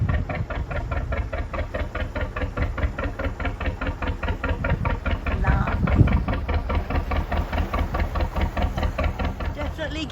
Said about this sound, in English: This boat's engine sounds old, but I don't think it's an historic boat